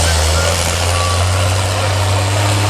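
A tractor prepared for competition tractor pulling runs its engine at the Welland 2013 event, producing a loud, steady low drone that stays close and unbroken throughout.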